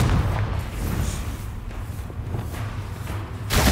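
Confringo fire spell in Hogwarts Legacy combat, a burst of booming explosive thuds and crackling impacts, loud and close, with a fresh blast at the end.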